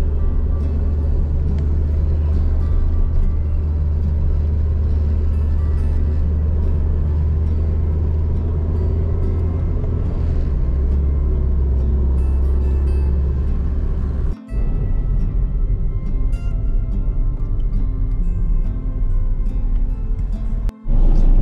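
Steady, loud road traffic beneath a flyover under construction, with cars and tricycles idling and creeping along as a continuous low engine rumble, briefly dipping twice.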